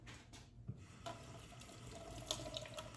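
Tap water runs steadily into a kitchen sink while lobsters are rinsed under it, a continuous close splashing hiss with small clatters and shifts as the shells are moved about.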